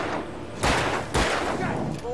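Two loud gunshots boom in quick succession in the video game Alan Wake, each with a rumbling tail, over a dense background of game noise.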